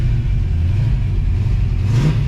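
A 1965 Ford Mustang Fastback engine runs loudly and close, a low rumbling idle with slight revving swells toward the end.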